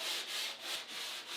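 Wood of a Singer 301A sewing machine cabinet being sanded by hand with the grain, a steady raspy back-and-forth rubbing in four even strokes, close and alone.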